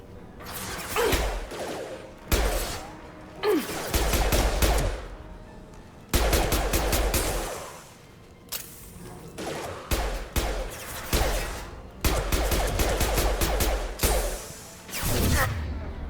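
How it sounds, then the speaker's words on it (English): Repeated bursts of automatic gunfire from a Mass Effect 2 firefight, loud and close, coming in clusters with brief gaps between volleys and sharp bangs mixed with mechanical clatter. "Серьезно, вы в меня стреляете?"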